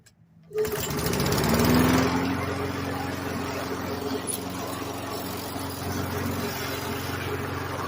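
A small self-propelled lawn mower engine, just fitted with a new engine brake cable, starts up and runs steadily with a loud, constant drone and rumbling hum, holding a steady pitch throughout.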